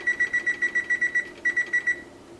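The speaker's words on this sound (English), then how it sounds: "I'm going to set the timer for 15 minutes." A kitchen oven timer beeps in quick, evenly spaced high electronic pips, about a dozen in a row with a short gap before a final run, loud and close with no talk.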